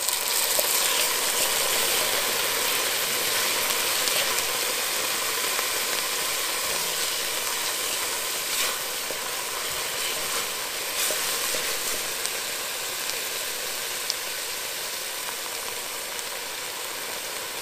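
Red wine splashed into a hot pan of garlic for an Italian sauce gives a steady, close, loud sizzle and hiss that holds evenly throughout without any talking.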